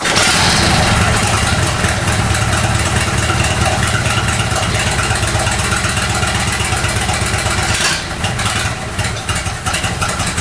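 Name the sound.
Matchless Model X motorcycle engine running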